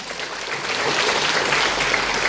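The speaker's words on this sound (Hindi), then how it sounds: "जोरदार ताली" A crowd at a family event claps loudly and continuously, a dense, even wash of applause throughout.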